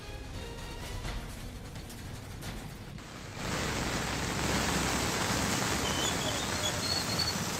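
Floodwater from the Kodavali and Arjuna rivers near Rajapur, Ratnagiri, swollen by monsoon rain, rushes in a steady broadband roar that suddenly grows louder and denser partway through and stays constant.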